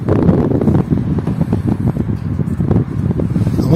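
Strong wind buffets the microphone outdoors during car headlight polishing, a loud, constant rumbling gust noise with fluttering pulses throughout.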